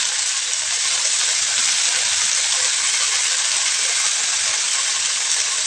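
Fenugreek leaves hit hot oil in a home kitchen pan for a Maharashtrian dry methi bhaji, giving a loud, steady, broadband sizzle that holds without a break.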